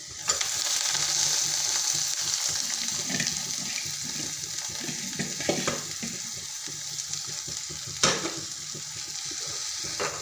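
Chopped amaranth greens stir-fried in a pan, a continuous close sizzle broken by occasional sharper scrapes of the spatula.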